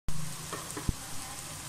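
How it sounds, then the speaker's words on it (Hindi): Garlic-ginger paste, two tablespoons, frying in a pan for a white chicken korma, giving a steady close sizzle throughout with a few small clinks of stirring. "अब मैं इसके अंदर 2 टेबल स्पून लहसुन अदरक का पेस्ट डाल दूंगी। और इसे अच्छे से फ्राई करूंगी।"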